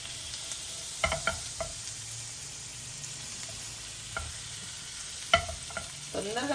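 Butter sizzles in a pan on the stove for a cheese omelette, a steady close hiss broken by a few light utensil clicks, with no talking.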